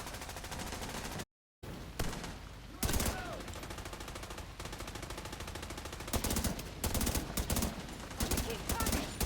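Rapid automatic gunfire in the video game The Division 2 crackles in dense bursts and single shots, broken by a brief moment of silence, then resumes in heavy volleys.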